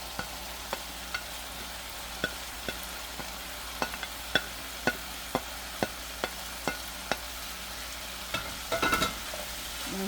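Vegetables and green onions cook in a pan for a chicken wrap filling, a constant sizzle under a regular series of sharp taps and clicks, with a brief clatter of stirring near the end.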